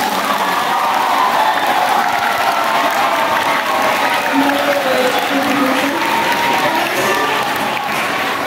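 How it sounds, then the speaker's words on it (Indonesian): Loud, sustained applause from students at a junior high school student council election debate, with dense clapping mixed with cheering, whoops and children's shouts throughout, close and energetic. "Tepuk tangan yang meriah."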